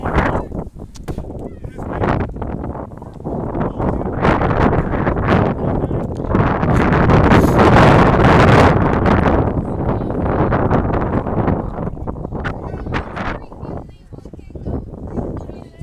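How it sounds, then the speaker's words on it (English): Strong outdoor wind buffets the microphone at a softball game, rising into a heavy rumbling roar midway and easing again, with a commentator speaking underneath. "I'll try to talk when the wind's not its strongest, because I know you can't hear me."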